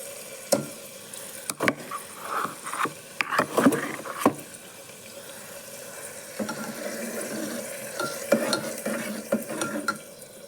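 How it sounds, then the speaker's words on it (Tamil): Masala paste sizzling in hot oil in a pan while a spoon stirs and scrapes, with clinks of utensil on metal over a steady soft frying hiss, close by and without speech. "இப்போ பேஸ்ட்டு சேர்த்துக்கலாம் இது ஆயிலில் கொஞ்சம் நேரம் வணங்கட்டும்"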